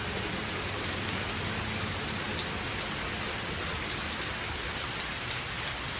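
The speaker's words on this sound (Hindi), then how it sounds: "बारिश हो रही है।" Steady, dense rain pours down with a constant hiss and patter of drops, unbroken throughout and fairly close.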